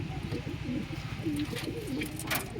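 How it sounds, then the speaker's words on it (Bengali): Pigeons coo softly in a loft cage, a low throaty burbling repeating continuously at moderate distance. "এখন চলে এসেছি খাঁচার সামনে একদম দেখতেই পাচ্ছেন পায়রাগুলো"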